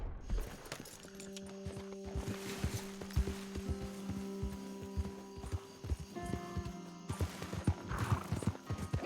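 Rapid hoofbeats of a horse in Red Dead Redemption 2 clop in a steady galloping rhythm, with the horse whinnying and a tonal music-like hum underneath.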